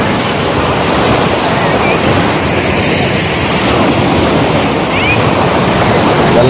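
Sea waves wash onto a beach in Alexandria at about seven in the morning, a loud, continuous surf roar mixed with wind buffeting the microphone, with no voices.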